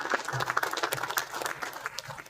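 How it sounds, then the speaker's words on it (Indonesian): A crowd claps in a burst of applause, individual claps distinct and fairly close, with no voices standing out. "Tepuk tangan untuk kita semua ya."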